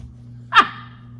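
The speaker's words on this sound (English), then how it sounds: "But that's my dog." A single short, sharp dog bark rises out of a quiet room with a low steady hum, close and fairly loud, with no talking.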